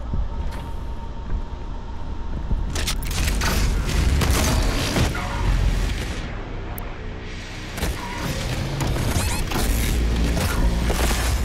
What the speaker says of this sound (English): Is that like a Gatling gun?